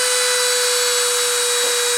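A spindle at 30,000 RPM deposits tantalum wire onto aluminum oxide, giving a loud, steady, high-pitched whine with a constant tonal hum and a dense hiss, unbroken and close, with no talking.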